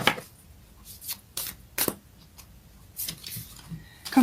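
Moonology oracle cards are shuffled close by in quick riffling bursts, several crisp papery flutters separated by short pauses, with no talking.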